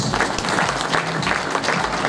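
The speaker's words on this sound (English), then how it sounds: "Let's give her a round of applause." A symposium audience gives a loud, dense round of applause for the Deputy Governor-elect, sustained clapping throughout the short burst.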